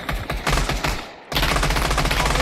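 Gunfire in the VR shooter Pavlov during a competitive championship match: loud, rapid bursts of automatic fire, a short lull, then another sustained close volley that fills the end.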